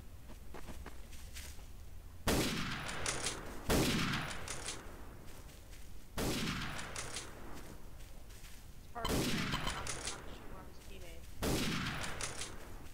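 Gunfire in a World War II German roleplay video game: about five loud, sharp bursts of rapid shots spaced a few seconds apart, with quieter background movement between them.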